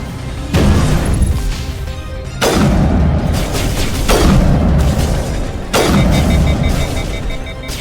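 Weapon shots and explosions from Mass Effect Legendary Edition: four heavy, booming blasts in a row, each a loud hit with a long rumbling tail that rolls into the next, and no talk over them.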